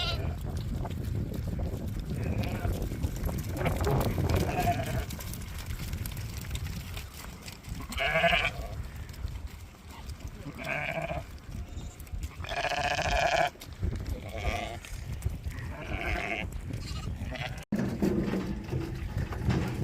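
Sheep on an Irish farm bleat repeatedly in loud, wavering calls spaced across the stretch, over a steady rumble of farmyard background noise.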